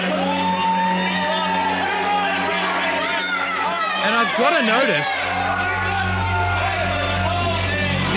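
A wrestling crowd at an APW Below Zero event cheers and whoops in the background, partly masked by someone talking over it.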